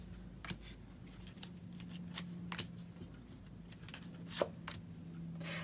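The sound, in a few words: shuffling a deck of oracle advice cards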